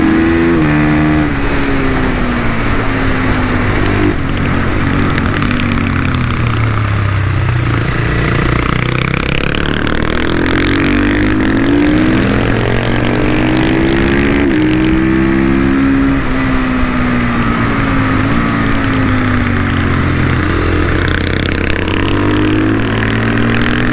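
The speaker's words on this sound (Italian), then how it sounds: "stanno fondendo le moto questi" Motorcycles on an Italian road rev hard and roar past one after another, loud close engine whine rising and falling in pitch with continuous high-revving passes throughout.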